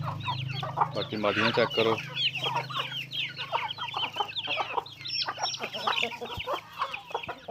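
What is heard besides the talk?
aseel rooster clucking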